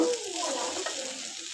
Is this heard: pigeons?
no